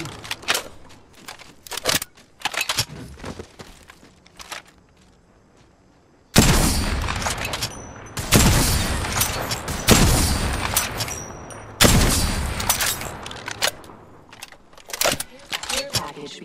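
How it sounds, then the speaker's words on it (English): Gunfire in Apex Legends, heard as loud repeated bursts of shots and booms that start after a quiet stretch and continue in heavy volleys, with in-game voice lines over them. "Opening fire on the enemy."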